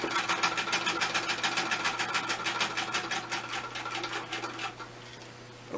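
An old Singer sewing machine stitches through canvas in a steady, rapid mechanical chatter that runs continuously at close range, then slows and stops near the end.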